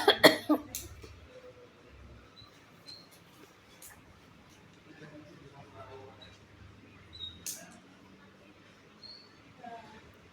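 A grandmother coughs, a short cluster of sharp, close coughs at the start, followed by quiet room sound with faint scattered noises.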